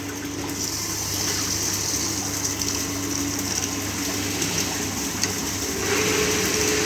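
Water rushes steadily through a pipe friction apparatus after a partly opened valve, a constant close hiss and gush with a slight lift in flow near the end.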